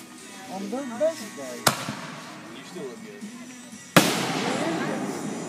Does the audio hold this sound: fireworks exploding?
yes